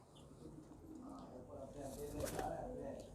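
Soft pigeon cooing in the background, low and murmuring, with faint bird chirps and ambient noise around it.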